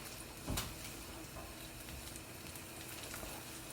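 Sausage heating in a pan gives a steady, soft frying sizzle, faint and continuous, with one brief clatter near the start and no voices.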